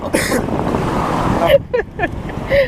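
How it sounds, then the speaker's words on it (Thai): Strong wind buffets the microphone at a seaside food stall, a steady roaring rush with surf-like noise throughout, while people talk briefly over it toward the end. "ลมแรงมาก"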